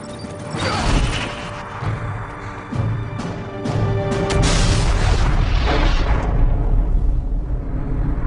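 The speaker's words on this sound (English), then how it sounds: "It's about to explode." A loud explosion in a TV drama, a deep rumbling boom with crashing debris that rolls on and swells rather than fading, heard alone without voices.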